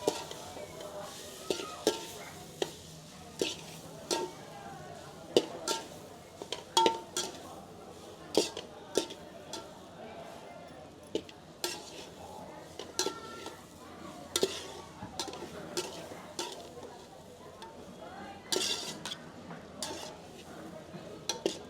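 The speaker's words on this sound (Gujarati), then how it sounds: "ખમણનો જે ભૂકો કર્યો છે એને નાખી દેવાનું. બરાબર હળાવી દેવાનું." Crumbled khaman is stirred into a mustard-seed tempering in a pan, with frequent sharp spoon scrapes and taps over a faint sizzle, fairly quiet and close.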